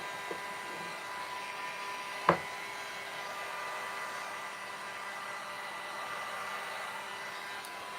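A hair dryer blows in a steady, continuous whoosh close by while drying a craft pumpkin, with a single faint knock partway through.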